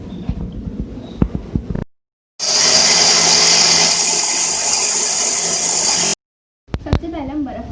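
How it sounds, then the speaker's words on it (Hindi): Electric blender whirring through khoya, milk, sugar and water for lassi: a loud, steady grinding roar lasting about four seconds, with brief clinks and handling noises before and after. "इसको हम कर लेंगे ब्लेंड।"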